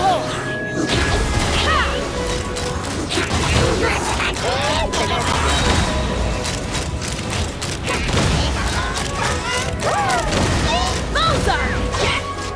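Bomb attacks go off in Genshin Impact combat, a dense run of bursts, crashes and impacts filling the whole stretch at high volume, with character voices calling out over the din.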